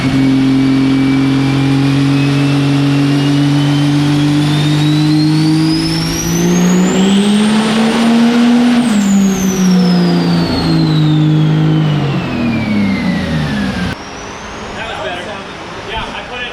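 A street truck fitted with an S485 turbo revs on a dyno. The engine note rises steadily to a peak and falls away while a strong, rising then falling turbo whine rides over it, loud and sustained.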